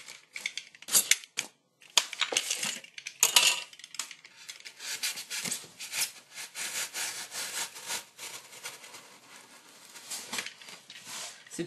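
Extruded polystyrene foam is cut by hand at close range, giving irregular crackling, scratchy squeaks and snapping clicks in uneven bursts.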